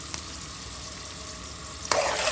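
Cardamom, cinnamon, cloves and bay leaves sizzle steadily in hot oil for a chicken and potato curry, a close, continuous frying hiss with a sharper burst of stirring near the end.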